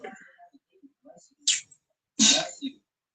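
A single sharp sneeze from a person, close and loud, heard in a casual indoor chat. Faint breathy sounds come before it, then a quieter sound right after.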